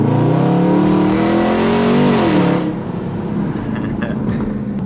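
A Dodge Charger or Challenger Scat Pack with a Hemi V8 accelerates with a loud, rising engine note, then drops to a steadier, quieter cruising rumble after a few seconds.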